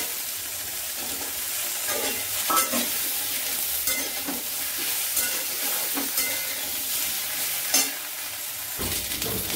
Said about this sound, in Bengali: ভালোভাবে ভেজে নেব। এবার আমি দিয়ে দেবো সজনের ডাটাগুলো।